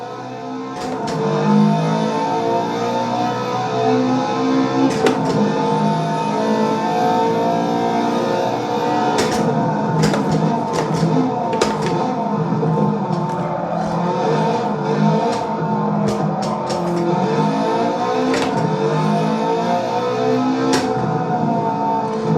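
A car engine revs hard through gear changes during a drag race in a sim racing game, with loud rising and falling engine tones and sharp clicks and knocks on top, continuous and close, with no talking.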